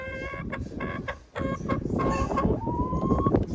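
Hens cluck and squawk in a coop, several birds calling over one another in repeated harmonic bursts. The sound is close and fairly busy, with one drawn-out call near the end.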